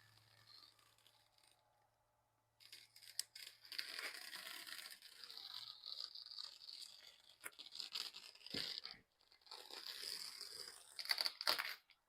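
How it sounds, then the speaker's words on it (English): Masking tape is peeled off a painted surface in long, rough ripping stretches broken by brief pauses. The sound is close and fairly quiet, with a burst of quick tearing at the end. "I'm going to tear the tape off"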